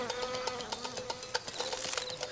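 A fly buzzing with rapidly beating wings, a steady close whine that holds throughout over a backdrop of light ticking and patter.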